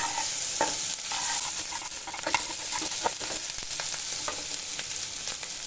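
Fish roe and potatoes fry with a spoonful of chili powder in a pan, stirred by a spatula: a steady close sizzle with repeated scraping strokes and soft clacks throughout, no talking.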